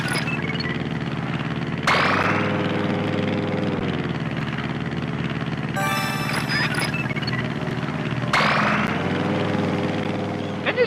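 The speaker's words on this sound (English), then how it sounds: "just hopping in the plane and just flying around the island" Propeller plane flying around an island in Wii Sports Resort, a steady droning engine hum running throughout with two brief rising surges of engine power and a short burst of bright chiming game sounds in the middle.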